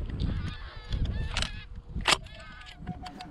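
Wild geese honk repeatedly during a hunt, a flock calling in overlapping bursts at moderate distance, with one louder nearer cry and a distant thump mixed in.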